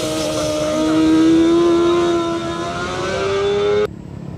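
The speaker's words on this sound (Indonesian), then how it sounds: "Wih, ada motor balap nih teman-teman." A racing motorcycle engine revs hard and steady with a rising pitch, loud and close, then cuts off abruptly near the end, with no talk over it.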